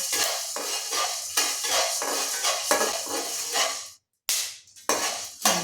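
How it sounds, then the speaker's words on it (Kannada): Coriander seeds and black pepper dry-roasting in a pan, a dense stream of scraping, rattling stir strokes with crackling seeds, loud and close, broken by a brief silence before the rattling resumes, no talking. "ಇದು ಚಟ ಚಟ ಅಂತ ಸೌಂಡ್ ಬರುತ್ತೆ ನೋಡಿ ಚಟಪಟ ಅಂತ ಸೌಂಡ್ ಬರ್ತಾ ಇದೆ"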